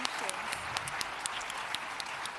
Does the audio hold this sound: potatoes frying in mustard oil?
no